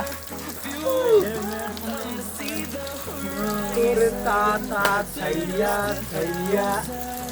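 A village waterfall pours steadily, a dense broadband rush of falling water heard close and continuous, with people talking over it.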